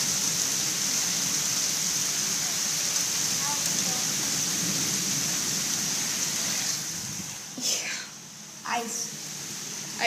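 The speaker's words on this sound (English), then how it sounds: "When ice falls from the sky, we call it hail." Hail falling in a hail storm, a dense steady patter of ice striking surfaces. Voices are heard briefly near the end as the noise eases.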